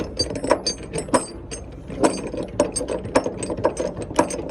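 A ratchet binder being cranked to tighten a chain over a machine on a flatbed load, giving a steady run of loud, close, rhythmic metallic clicks and clacks.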